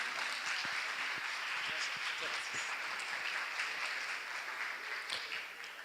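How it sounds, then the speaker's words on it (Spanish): Audience applause welcoming a speaker at a communication conference in Monterrey, a steady wash of clapping that holds for several seconds and begins to fade at the end. "Recibamos al licenciado Armando con un fuerte aplauso."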